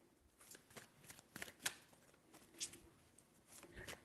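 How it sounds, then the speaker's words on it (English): Tarot cards being shuffled in a quiet room, a run of soft riffling bursts and crisp flicks coming in uneven waves, close and fairly faint, with no voices. "All right, 3 shuffles."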